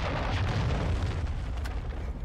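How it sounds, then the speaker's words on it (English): A friendly cruise missile strike in Modern Warfare 2 lands as a deep, rumbling explosion with a sustained low roar that fills the space without any voice over it. "Friendly cruise missile approaching target"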